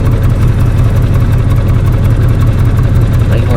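An Audi RS6 with its silencer deleted idles in comfort mode, a loud, deep, steady rumble close to the tyre line.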